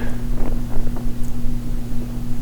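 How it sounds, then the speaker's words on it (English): Wind buffets the microphone out on a disc golf course during a tournament round, a close, steady rumble with gusty swells and a low mechanical hum underneath. "Wind picking up a little"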